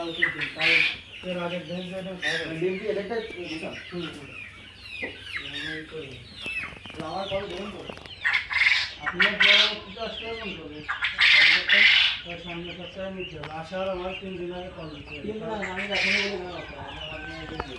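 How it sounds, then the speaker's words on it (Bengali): A crowd of native Bangladeshi chickens on a large poultry farm clucks and squawks nearby, with overlapping calls and sharp cackles rising and falling throughout. "খামারে এসে প্রথম দেখলাম দেশি মুরগি"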